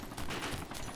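A gunshot in the DayZ mod Overpoch fired at another player: a single dense, loud crack of gunfire that fills the whole moment with little else around it.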